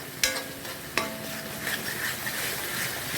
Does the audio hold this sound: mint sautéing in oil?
yes